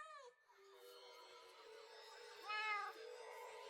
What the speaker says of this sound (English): Oh, and the cats!